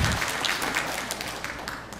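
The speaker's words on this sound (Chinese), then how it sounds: "先给一点掌声吧，这个掌声是要来的" Applause from a lecture audience at a technology leadership and teaching forum, a steady wash of clapping over two seconds that starts strong and thins slightly toward the end, with no voices over it.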